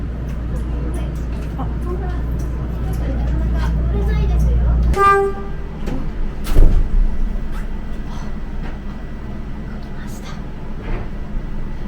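A Chiba Urban Monorail suspended train runs past at its depot, a steady low rumble that cuts off midway, followed by a brief horn-like tone and scattered clatter while people talk nearby.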